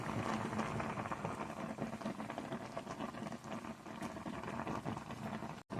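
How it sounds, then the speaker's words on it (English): A pot of Nigerian okra soup with mushroom and seasoning simmers under a lid, a faint, dense bubbling patter running continuously before cutting off abruptly at the very end, with no one speaking. "Cover and allow to simmer for 5 minutes."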